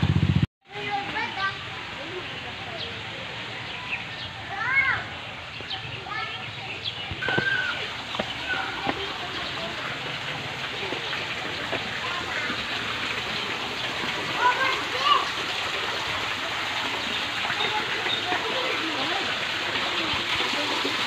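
A zoo waterfall keeps up a steady, close rushing hiss of falling water, and voices speak faintly beneath it.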